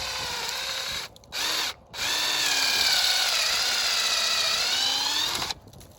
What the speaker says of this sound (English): this is a 1/2 inch drill. Put a slight angle upward.